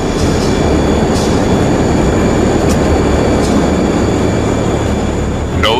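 A loud, steady roar of a fixed-wing aircraft taking off fills the whole stretch, a dense rumbling drone with high whining tones that holds constant with no voices.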